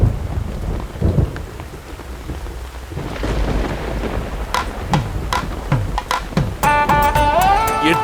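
Heavy rain pours steadily at a wedding, with deep rumbles of thunder rolling underneath and sharper raindrop hits on surfaces growing busier toward the end.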